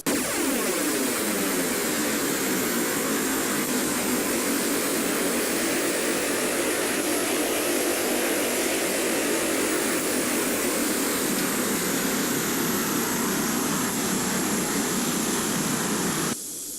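A Tornado GR4 jet in flight roars steadily and loudly with dense broadband engine and air noise, holding unbroken for the whole stretch with no voices.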